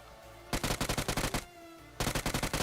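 Automatic gunfire from the BGMI battle royale game: two rapid bursts of evenly spaced shots, loud and close, separated by a short pause.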